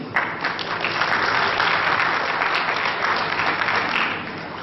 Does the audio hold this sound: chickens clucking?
no